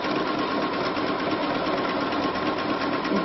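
A sewing machine fitted with a transparent fringe foot stitches steadily in a continuous close, even whirring hum with a fast mechanical rhythm and no pauses.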